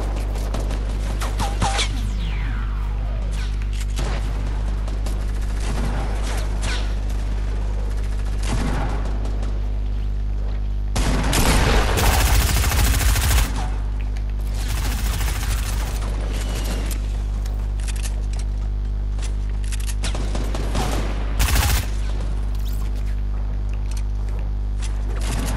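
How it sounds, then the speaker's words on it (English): Gunfire from snipers in Fortnite crackles through a long stretch of game noise, with several loud bursts of shots, the heaviest cluster in the middle and more later, against a constant low hum. "I'm getting sniped."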